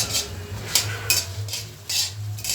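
Coriander seeds being dry-roasted in an iron wok-style pan give off a soft, rhythmic scraping and rustling, about five gentle strokes as they are stirred, with no talking.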